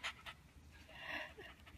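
A happy dog pants after a walk, quick soft breaths at close range, faint and alone.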